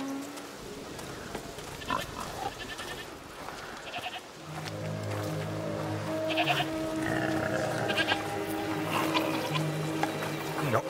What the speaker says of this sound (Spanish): ¿Qué hay por ahí? ¡Cabras!